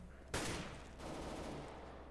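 Gunfire in Counter-Strike: Global Offensive, a sharp loud burst of shots near the start followed by a second sustained volley, rapid and close, with no talking.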